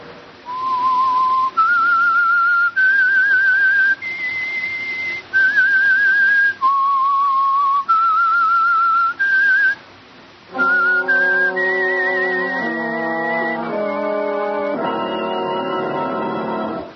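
A clear whistled melody of held notes and short pauses, the theme of a radio drama, joined partway through by a fuller orchestral-sounding backing, loud and up front.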